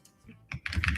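Fingers type on a tactile computer keyboard, a short flurry of clicky keystrokes building quickly from faint taps to a dense, loud close-up clatter, with no talking.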